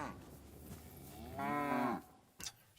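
A cow in the video game Kingdom Come: Deliverance 2 moos once, a drawn-out low call lasting about half a second, over faint ambient noise, followed by a brief sharp sound.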